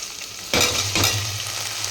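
Food for Savaji mutton gravy frying in a hot pan, a steady close sizzle that swells suddenly partway through as more goes in, then holds a loud, continuous hiss with no talking.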